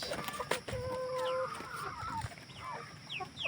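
A large Brahma chicken clucks in short, uneven calls close by, with rustling and faint farmyard noise behind.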